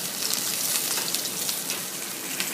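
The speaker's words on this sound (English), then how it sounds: "So you're just going to let that sear just like that for 2 minutes on one side." A steak sears in a hot pan with a dense, steady sizzle, close and constant, with fine popping crackles running through it and no voices.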